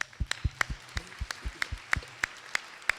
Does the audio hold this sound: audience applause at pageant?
yes